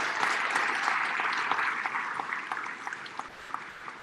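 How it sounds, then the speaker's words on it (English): An audience at an end-of-year school awards ceremony applauds students who won a state game-development competition, with steady dense clapping that slowly thins toward the end. "Let's give them a round of applause."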